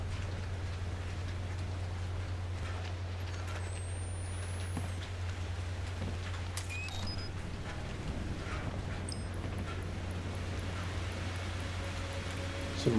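Steady rainfall of blood patters across the scene in Outlast II with a low constant hum underneath and a few faint electronic chirps, no talking.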